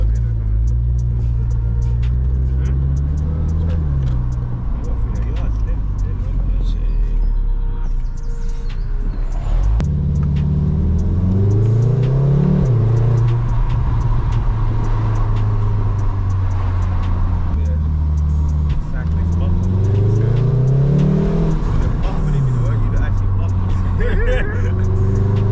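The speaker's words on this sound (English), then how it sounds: "rev it up just a bit more" Volkswagen Golf R MK7.5 engine revving loudly close by, with rising and falling pitch sweeps repeating several times over a steady road rumble, while people talk over it.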